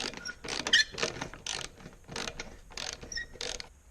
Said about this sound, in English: loosen the band on the muffler.